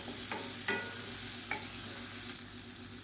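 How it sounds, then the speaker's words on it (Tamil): Chopped onion and tomato sizzle as they sauté in a pan, with a few sharp scrapes of stirring over a steady, close frying hiss and no voices. "வெங்காயம் தக்காளி நல்லா வதங்கிருச்சு"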